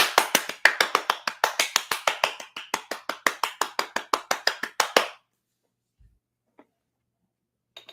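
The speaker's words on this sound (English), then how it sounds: "Give a round of applause." A crowd of people applauds at a gathering of Power Rangers fans, a dense burst of clapping lasting about five seconds before stopping abruptly, followed by silence with a few faint thumps.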